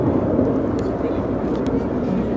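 Red Arrows jets roar as a broad, steady rumble during a flying display at RIAT 2025, loud and continuous while the formation moves into a Delta Wing.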